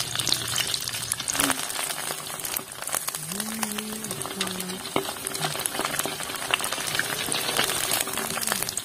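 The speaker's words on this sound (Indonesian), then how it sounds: "Gorengnya ke dalam minyak yang sudah benar-benar panas" Sempol fries in very hot oil with a dense, steady bubbling sizzle that carries on throughout, along with faint background tones.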